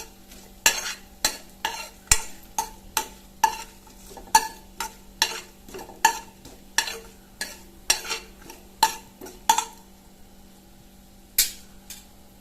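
Whole cinnamon, cloves and cardamom frying in a pan for an aloo baingan dish, with a steady series of about fifteen sharp scrapes and taps as the spices are stirred, then a quieter stretch before two final clinks.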